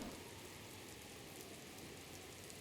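Steady rain patters in The Legend of Zelda: Breath of the Wild on Switch, a soft, even hiss of falling drops with no breaks, faint and alone for the whole stretch.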